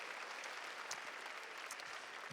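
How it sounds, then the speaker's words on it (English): Faint, steady applause from a comedy club audience at a stand-up show in Bakersfield, a dense even patter of distant clapping throughout with no voices. "how about a round of applause for me?"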